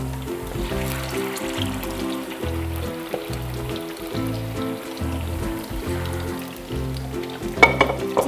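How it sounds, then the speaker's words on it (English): Pork ribs deep frying in hot oil give a steady bubbling sizzle under background music, constant and moderately loud throughout. "In terms of deep frying these ribs, it actually doesn't take that long"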